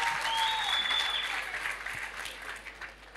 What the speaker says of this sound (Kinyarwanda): Mwamukomeye amashyi